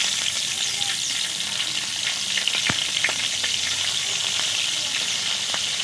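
Whole cumin seeds, two halved bay leaves and slit green chillies sizzle steadily in a little hot oil, a dense continuous crackle with a few sharper pops, close and fairly loud throughout.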